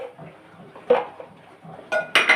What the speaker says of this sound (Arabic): بحط 4 بيضات في الخلاط